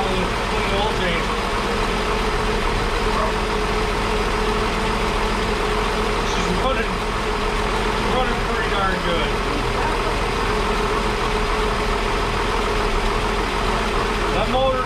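A 1961 Ford Falcon Delivery's engine idles just after an oil change, a continuous low steady rumble held close and loud throughout with faint background noise on top.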